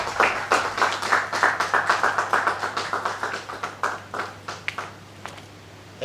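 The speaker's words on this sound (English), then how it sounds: "A round of applause once again for Emmanuel." Audience applause at the African Prestigious Awards ceremony: a fairly close round of hand clapping in quick, regular beats that gradually thins and fades into a few scattered claps.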